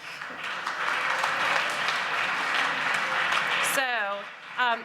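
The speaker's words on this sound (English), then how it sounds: "you owe her a big round of applause" A full round of applause at a school college night for freshmen, honoring the office manager, steady and fairly loud for nearly four seconds, then cutting off as a voice begins speaking.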